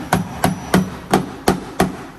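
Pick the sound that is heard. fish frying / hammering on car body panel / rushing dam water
hammering on car body panel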